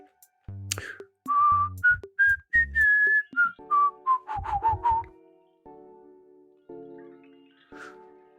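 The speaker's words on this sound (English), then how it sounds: "I'm going to whistle a theme song from a famous TV show." Someone whistles a short, bouncy melody of rising and falling notes over a steady electronic backing tone, then trails off near the end.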